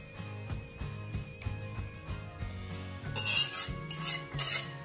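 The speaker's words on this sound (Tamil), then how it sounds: "இப்போ இந்த மாவோட சேர்த்து நம்ம வந்து கலக்கிக்க வேண்டியதுதான்." Banana raisin muffin batter is stirred with flour in a bowl, giving soft rhythmic scraping strokes up close that grow brisker and louder toward the end.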